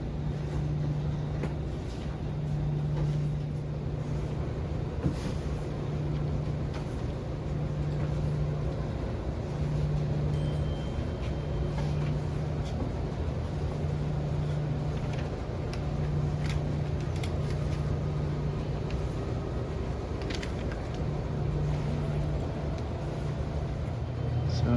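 Laundromat washing machine cleaning a quilt in its final rinse and spin gives a continuous low mechanical drone with a faint pulsing hum and occasional clunks, moderately quiet and steady throughout.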